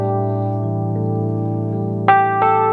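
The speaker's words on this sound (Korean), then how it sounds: "이번에는 피아노와 흡사한 EP를 한번 들어볼 건데요." A Roland keyboard's electric piano preset, playing sustained mellow chords that ring steadily, then two fresh attacks near the end strike brighter notes; close, clean and with no voices.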